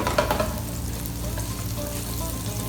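Tuyo, salty dried fish, fries in a pan with a steady close sizzle and crackle, a few sharper pops near the start, no talking.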